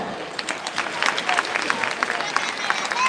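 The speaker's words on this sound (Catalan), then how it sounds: "Un fort aplaudiment." An audience claps at a skating festival, with steady, fairly close clapping running throughout and a voice heard over it.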